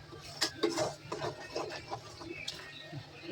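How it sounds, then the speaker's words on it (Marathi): Large spoon stirring coconut barfi mixture around a pan, with irregular light scrapes and clinks of metal against the pan, close and fairly quiet. "ही जरा सुद्धा थांबली नाहीये, कंटिन्यू त्याला हलवते चारी साईडने"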